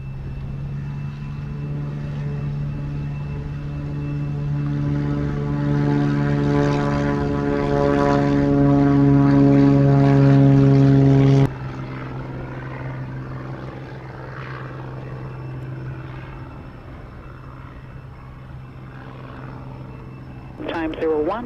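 An airliner taking off from runway 07 at Sangster International Airport, Montego Bay, Jamaica: a loud, steady engine roar with strong tones builds for about eleven seconds, then cuts to a softer, more distant rumble.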